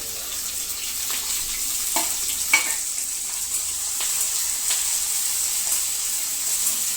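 Chillies and tomatoes fry in a pan for a fasting-style sama rice khichdi, a close wet sizzle broken by several quick spatula strokes and scrapes, with no talking.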